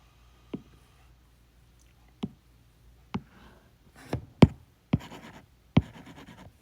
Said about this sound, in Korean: 요거는 필기를 여기다 해보겠습니다.